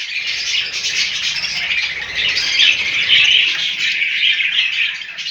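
Budgerigars in a home breeding flight cage chirping and chattering nonstop, a busy overlapping twitter of many small birds close by, with no voices.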